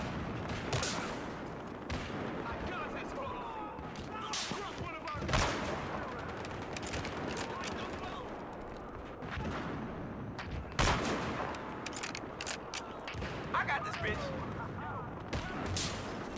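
Battlefield Hardline gunfire in a map called the Block, with scattered sharp shots and bursts over a dense, busy backdrop of combat noise.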